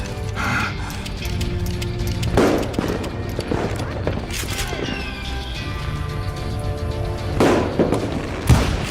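Gunfire in the Western shooter Call of Juarez: Gunslinger, several sharp shots spaced irregularly over a busy background of effects and music, with loud bursts near the start, middle and end.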